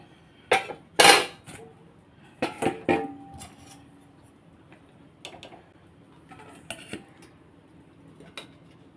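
Bhagna fish and potato curry being served into dishes: a few sharp clinks and knocks of a utensil against plates and a pot, sparse and close, with quiet pauses between them.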